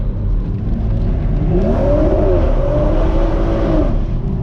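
A BMW M240i with a limited-slip differential accelerates while sliding sideways, its engine a loud, steady, close drone that rises in pitch over a few seconds, with road and tyre roar underneath.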